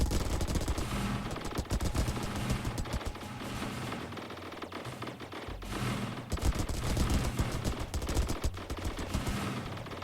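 Spaceship weapons fire in the space strategy game Star Drive: dense, continuous bursts of rapid gunfire and explosive blasts layered over one another, loud and relentless for the whole stretch.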